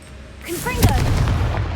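A Confringo fire spell blast in Hogwarts Legacy: a shouted incantation followed by a loud, deep explosive boom that rumbles on through the rest of the moment.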